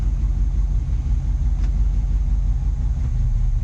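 A 1971 Chevy engine runs while being shifted through its gears, a continuous deep, loud rumble with little change in pitch.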